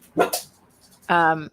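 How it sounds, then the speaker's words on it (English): A dog gives a brief bark, then a longer whining yelp, picked up faintly through an online call with a moment of quiet between them. "That was the dog."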